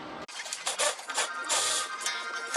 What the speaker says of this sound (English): that's one positive of having this little little battery powered ratchet